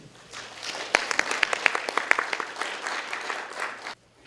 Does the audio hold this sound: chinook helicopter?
no